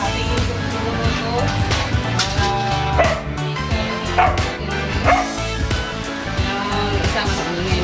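A large dog barks in repeated bursts amid other dogs' yips and whimpers, loud and close, with steady background noise and some voices.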